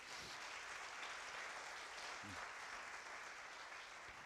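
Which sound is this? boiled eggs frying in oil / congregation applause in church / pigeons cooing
congregation applause in church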